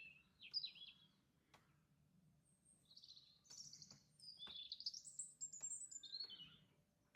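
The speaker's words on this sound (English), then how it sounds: "Quiet and the birds." Birds chirp and call in a quiet village, with several short, high tweets and trills scattered across the stretch, fairly clear and close over a faint low background hum.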